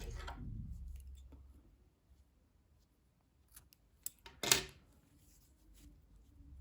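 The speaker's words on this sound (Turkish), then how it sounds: "İpliği kesiyorum." Scissors snip through crochet yarn in a quiet room, a couple of faint clicks followed by one short, sharp cutting snap near the end.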